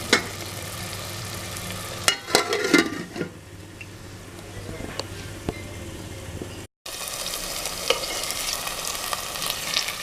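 Fish pieces in masala paste cooking in a pan for a thick, spicy fish gravy: a soft, steady sizzle with a few sharp clinks and clatters of a lid or utensil, a brief dropout, then quiet bubbling resumes.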